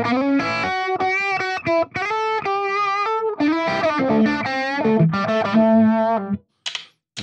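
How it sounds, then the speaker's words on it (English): Electric guitar run through a univibe modulation effect on a Fender Tone Master Pro, loud sustained chords and notes with a pulsing, throbbing warble, ending in a short pause and a brief final strum. "Here's a univibe."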